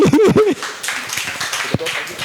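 A burst of audience applause for an actor named Joshua at a live football talk show, a dense patter of clapping that follows a brief voice and carries on steadily.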